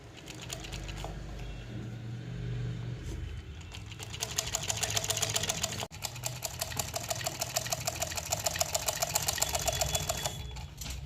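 A sewing machine stitches the fly of a trouser zip in rapid, even bursts of needle clatter, a short pause and soft motor hum between runs, then a longer steady run after a brief break.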